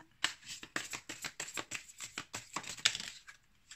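Tarot cards are shuffled and handled close up in a series of quick papery riffles and flicks, about a dozen soft bursts in an irregular rhythm, with no talking.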